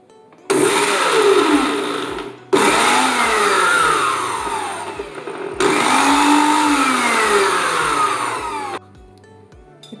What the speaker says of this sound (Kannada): ಒಂದು ಪೂರ ಮಿಕ್ಸಿಗೆ ಪಾಡ್ದಾಂಡು ಇತ್ತೆ ಗ್ರೈಂಡ್ ಮಾಡ್ಬೋದ